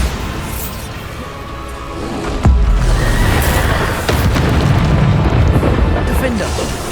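A Bombarda blasting spell from Hogwarts Legacy goes off with a loud, sudden boom partway through, followed by a sustained rumbling roar of debris and combat noise, with game voices mixed in.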